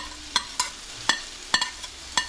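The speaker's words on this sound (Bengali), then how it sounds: "ভাজার পরে আমি এখন এই কাঁচা লঙ্কাগুলো মিশিয়ে দেবো।" Green chillies are stirred into onions frying in a pan: a quiet sizzle under a series of about six sharp metallic clicks and scrapes of a spoon against the pan, spaced irregularly, with no talking.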